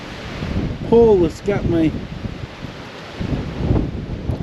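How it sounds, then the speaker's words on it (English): Strong wind blusters at a lakeside campsite at Blackhawk Lake, rumbling and buffeting the microphone in gusts while someone speaks briefly. "See how windy it is?"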